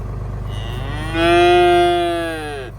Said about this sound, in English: Just remember, snow-covered cows are good cows.